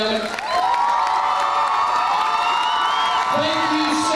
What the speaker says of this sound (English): One final applause for our seniors, ladies and